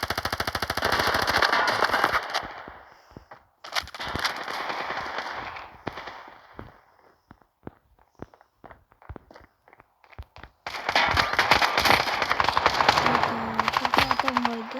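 Rapid automatic gunfire from a new weapon in the mobile shooter Standoff 2, long loud bursts separated by a stretch of scattered single shots and footsteps, with a voice speaking briefly near the end.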